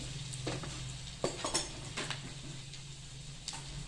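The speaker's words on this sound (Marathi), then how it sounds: "ह्या 2 मिरच्या टाकायच्या. मस्तपैकी आपला आता डाळीला तडका बसणार आहे बघा." Tadka of crushed garlic, red chilli powder and chillies sizzling in hot oil for dal fry, a soft steady sizzle punctuated by a few sharp spatters and clinks of a spoon against the pan.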